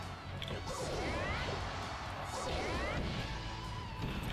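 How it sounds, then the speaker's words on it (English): Kirby's Star item smashing into objects during a Super Smash Bros. match on GameCube: a steady run of crashing, whooshing impacts over game music and effects, loud and continuous for a few seconds. "Kirby Star smashing stuff."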